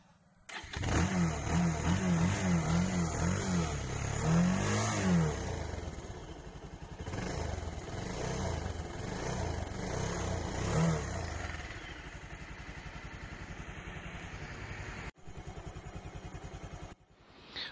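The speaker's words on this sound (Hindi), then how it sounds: "तो पेट्रोल डालने के बाद मैंने बाइक को फिर से कर दिया है ऑन" A Bajaj Pulsar 220 motorcycle, a 2019 ABS model, starts after refuelling and settles into a steady idle, close and loud, with a few revs near the start before it cuts off near the end.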